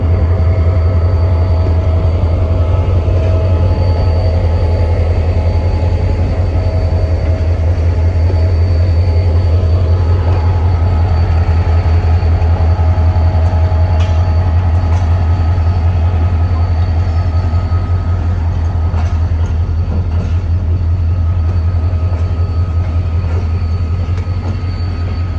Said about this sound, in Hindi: मीरपुकार रेलवे स्टेशन से जाती हुई आज की आखिरी ट्रेन